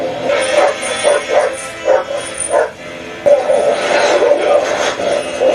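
Dogs in the film Clue bark and yip in a string of sharp, fairly close barks, then a longer noisy stretch, with people talking over the scene.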